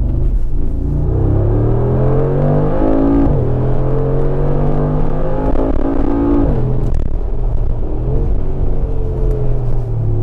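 Mercedes-AMG G 63 with a 4.0-litre V8 twin-turbo and exhaust flaps open revs hard, loud and close, the engine note rising in pitch, dropping, then climbing again.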